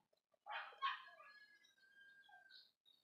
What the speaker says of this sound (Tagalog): Pagpasensya nyo na background ko kasi maingay yung mga aso.